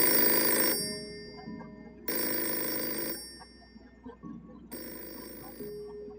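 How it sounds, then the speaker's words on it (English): A museum's old telephone rings in three loud electric bell bursts, each about a second long with short gaps between, alone with only faint room noise. "For the first time in 15 years, the museum's phone rang."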